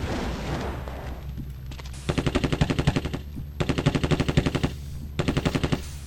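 Bursts of rapid automatic gunfire from the video game The Terminator: Future Shock rattle out in three long strings, loud and close, after an opening stretch of rumbling game noise.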